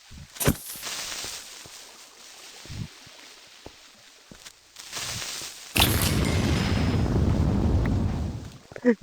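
Explosions from a bomb attack in the video game Gax Bizzare Adventure: several short booms, then a loud, sustained roaring blast that rumbles for a few seconds before fading, without speech.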